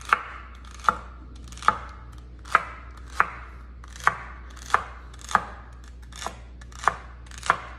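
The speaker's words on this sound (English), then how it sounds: "slice up our celery" A kitchen knife chops celery on a cutting board in about a dozen steady, evenly spaced strikes, close and crisp against a quiet background with no talking.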